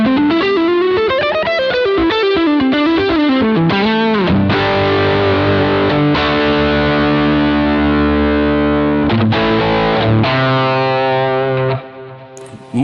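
Electric guitar through a Boss GT-1000Core multi-effects unit on a tweaked JC Shred Lead preset, loud distorted lead lines with fast runs and sustained notes, fading out near the end.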